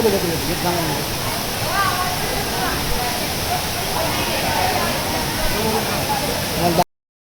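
Water rushing down a large stream at Pavankhind, a steady broadband roar close by that continues unbroken and fills the whole clip before it cuts off abruptly near the end.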